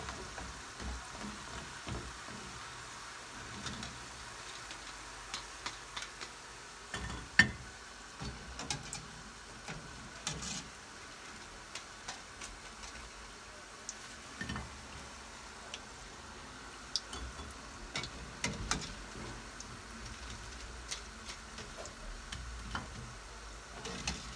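Faint, steady sizzling of potato balls frying in oil over medium heat, with scattered soft pops and crackles throughout.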